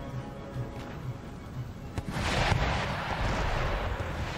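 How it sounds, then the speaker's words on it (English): Foot artillery firing in a town battle in Empire: Total War, with a sharp report near the two-second mark followed by a broad roaring blast that swells and lingers over the rest of the span, loud and close. "can my foot artillery engage in the center of the of the town? The answer is yes."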